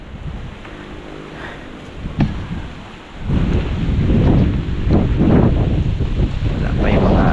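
Strong wind gusts across an outdoor spot where small fish are netted and banana plants grow, roaring and buffeting the microphone in loud, rumbling surges that build and swell toward the end.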